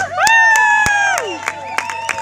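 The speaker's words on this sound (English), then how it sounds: "Everyone, please give my trusting couple a big round of applause" Outdoor wedding crowd by a lake cheers and whoops for a couple, with sustained shouted voices and scattered sharp claps, loud and close, tapering off toward the end.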